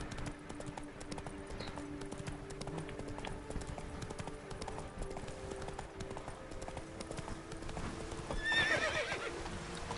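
Roach, the horse in the video game Witcher 3, with steady clip-clop hoofbeats throughout and a whinny near the end, moderately close and without talk.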